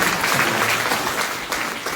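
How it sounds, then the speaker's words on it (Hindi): Students and teachers at a government school's children's parliament formation applaud a newly named education cabinet minister, a loud, dense burst of clapping with some crowd murmur beneath it. "जोरदार तालियों से स्वागत करें।"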